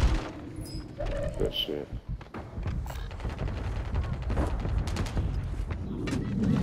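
Gunfire and explosive bursts crackle through a busy shooter video game firefight, with shots scattered across the whole stretch alongside frequent team chatter.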